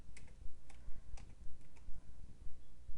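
Keystrokes on a computer keyboard as ipconfig /renew is typed at a command prompt, a quick run of crisp clicks in uneven bursts, close and clear with no talking.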